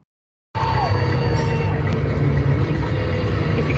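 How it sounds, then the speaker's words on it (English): A powerful engine bursts into a loud, steady roar after half a second of silence, then holds a dense, unbroken drone with a deep low rumble for the rest of the clip. "If you can hear the sound, you hear a powerful engine."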